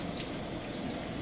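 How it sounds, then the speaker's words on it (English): Water runs steadily from a tap as hands are rinsed at a sink, giving a continuous even rush with no voices. "you rinse with running water"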